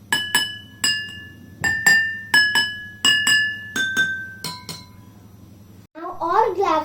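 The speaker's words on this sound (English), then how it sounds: "Now all glasses are making different sounds." Water-filled glasses at different levels, tinted with colour, struck one after another, giving a run of bright ringing clinks with distinct pitches, each note ringing and decaying, followed by a brief burst of other sound at the end.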